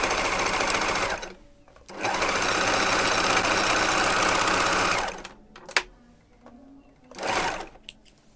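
Domestic sewing machine top stitching fabric, whirring loud and steady in long continuous runs with short pauses between, then brief bursts and a final short run, no voices.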